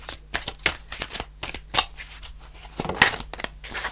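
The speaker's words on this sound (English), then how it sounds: "So, I pull five cards." Tarot cards being shuffled and pulled, a quick series of crisp riffling and slapping bursts, close and fairly loud, with no talk.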